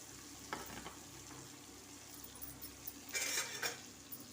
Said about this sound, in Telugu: ఆ ఎగ్ వేసేయాలి.